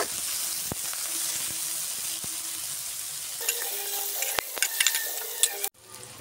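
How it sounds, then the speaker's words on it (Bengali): Onions frying in a pan with steady, crackling sizzle, stirred now and then with sharp scraping knocks; the sizzle grows busier near the end before cutting off abruptly. "পেঁয়াজটা ভালো করে ভাজতে হবে।"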